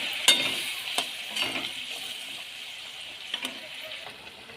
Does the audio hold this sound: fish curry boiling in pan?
yes